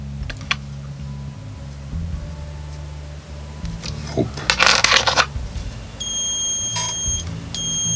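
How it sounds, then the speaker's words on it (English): Active buzzer powered at 5 volts gives short, shrill repeated beeps near the end, after soft handling and rustling noises over a steady low hum. "In my left hand I hold active buzzer."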